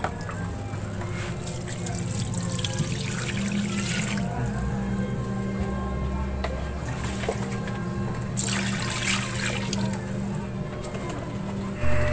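Steady trickling and splashing of water being poured into a pot with chicken thighs for boiling, continuous, with low background hum and a few brief louder surges.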